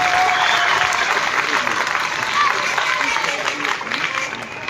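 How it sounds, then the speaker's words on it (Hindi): Schoolchildren clap and applaud together at a visit by Delhi's Lieutenant Governor in Okhla, a dense, sustained burst of many small hands with voices mixed in, holding steady before easing slightly at the end. "अब तो ताली बजनी चाहिए"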